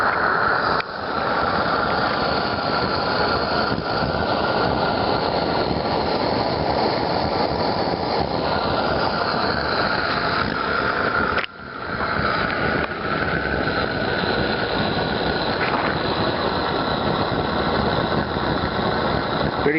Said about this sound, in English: Your own little pulse jet that doesn't cost even that much.